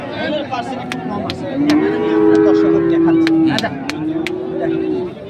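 Cattle at a rural livestock market where bulls are bought and sold, a loud close moo held for nearly two seconds followed by a second drawn-out call, with crowd murmur and scattered knocks around.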